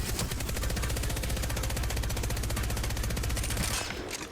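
A full magazine emptied in the shooter game Apex Legends, a single fast, unbroken stream of evenly spaced automatic shots, loud and close, stopping just before the end.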